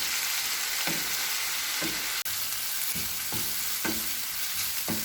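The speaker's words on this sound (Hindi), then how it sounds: "2 चम्मच जिंजर गार्लिक पेस्ट लेंगे। 1 मिनट तक पेस्ट को फ्राई कर लेंगे।" Ginger garlic paste sizzles steadily in hot cooking oil in a pan for a keema paratha, with soft periodic scraping from stirring and no voices.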